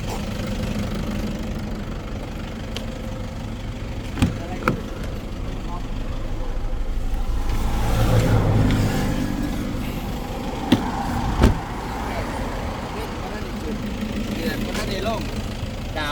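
A car's engine runs at a steady idle throughout, with a few sharp knocks and clunks and people talking over it.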